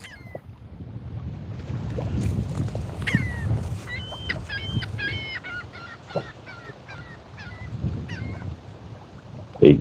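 Gulls cry repeatedly across a lake pier at a canal into Presque Isle Bay on Lake Erie, a string of harsh calls over wind and low rumbling background noise.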